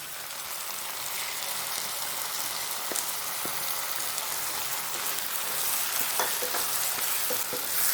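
Chopped tomatoes sizzle and fry with sautéed onions in a pan for green gram masala, with steady stirring and occasional spoon scrapes; no talking.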